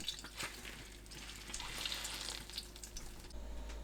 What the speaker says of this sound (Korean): 물 짭니다.